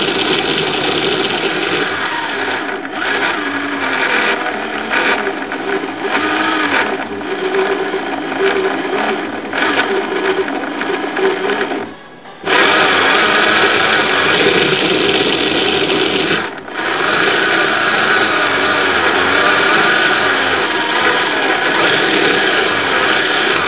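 A small electric motor run through a homemade driver whines steadily at high revs under load, overheating and beginning to smoke. The loud, continuous buzz dips briefly twice before returning to full speed, with no voices.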